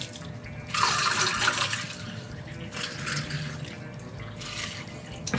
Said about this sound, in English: So we'll go ahead and start pouring this here.